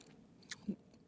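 Steak and underdone, slightly crunchy potatoes being chewed while car camping in freezing winter weather: one brief close bite and a soft munch, faint against a quiet background.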